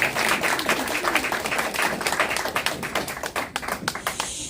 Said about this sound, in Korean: 박수를 보내주시면 고맙겠습니다.